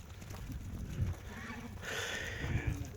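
A flock of pregnant ewes with young lambs, several animals calling in short bleats at moderate distance over a low rumbling background.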